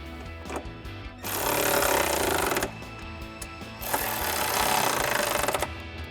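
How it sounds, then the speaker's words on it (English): A power tool drives a 13mm socket to run two bracket bolts into a side step on a 2021-2024 Ford Bronco, in two loud, sustained buzzing bursts separated by a quieter pause. "now we'll switch to our 13mm socket to get the 2 bolts going from our bracket into our side step"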